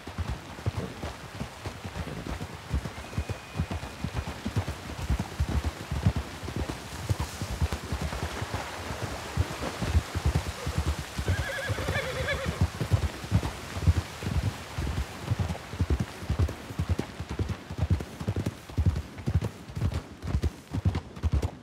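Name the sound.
horse hooves clip-clopping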